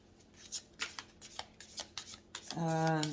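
Tarot deck shuffled in the hands while drawing clarifier cards, a quick riffle of soft papery slaps and flutters that builds to a louder burst near the end, with a low tonal hum underneath.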